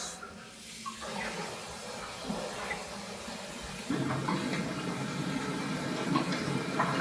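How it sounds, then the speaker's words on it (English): A faucet is turned on during boiler repair work on a Viessmann Vitodens 100 B1HA/B1KA, and water begins to run with a soft hiss that swells into a steady, louder rush partway through. "I have to turn the faucet on."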